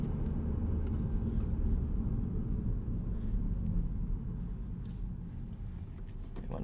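A 2022 Audi RS3 driving in comfort mode, a steady low cabin rumble of engine and road noise heard from inside, continuous and fairly loud with faint clicks and rattles above it.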